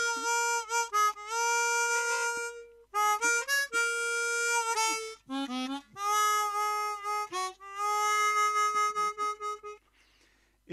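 Harmonica melody of sustained reedy notes and quick runs, close and clear, with brief pauses between phrases and no talking.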